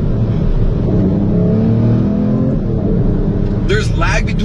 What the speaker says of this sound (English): you listen to the downshifts